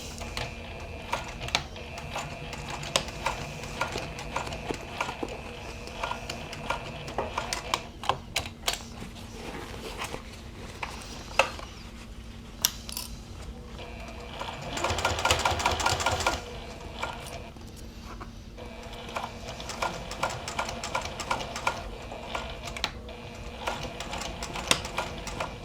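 Domestic sewing machine stitches a shoulder bag from fabric in quick, rattling bursts that start and stop, with short pauses and a louder run midway, heard close up and without talk.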